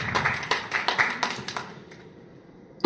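An audience at a press club calendar launch claps in honour of a speaker, a brief burst of sharp, fairly close hand claps that thins out and fades after about two seconds.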